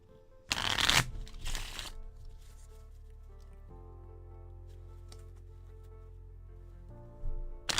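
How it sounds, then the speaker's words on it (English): A deck of playing cards is riffled in two quick, crisp bursts close to the microphone, followed by quieter handling and a low steady hum, with another brief ruffle near the end. "about to give it 7 good shuffles"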